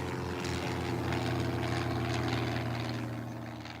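Aircraft engine drone picked up through a large concrete acoustic listening dish, a steady low humming throb with layered tones, fairly loud and continuous, easing slightly at the end.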